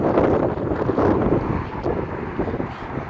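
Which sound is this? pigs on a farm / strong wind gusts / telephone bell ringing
strong wind gusts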